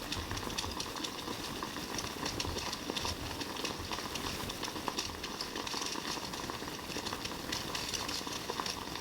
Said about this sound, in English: So you do want to use distilled water for the facial steam.